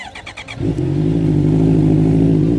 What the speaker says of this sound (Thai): จะมาฟังเสียงท่อ JP กันหน่อย